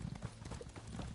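Horse hooves clip-clopping in The Elder Scrolls Online, a quiet, steady rhythmic clatter of hoofbeats over low rumbling background noise, with no clear voices.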